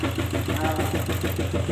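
A farm tractor engine idles with a steady low rumbling throb, loud and continuous for the whole moment, no talk over it.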